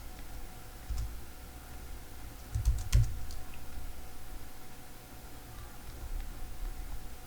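Computer keyboard key presses during a Substance Painter tutorial, a few faint, sparse clicks over quiet room hiss, with one small cluster of taps near the middle.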